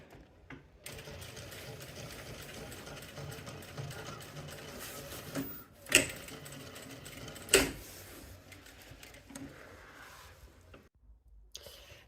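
Sewing machine stitching fabric for a large travel bag, a soft continuous mechanical hum with needle chatter running several seconds, broken by a couple of sharp clicks.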